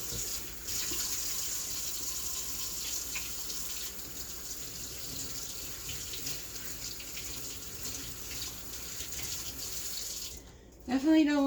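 Water runs steadily from a kitchen sink tap while hands are washed under it during cooking, a continuous close hiss and splash that cuts off near the end with a brief clatter.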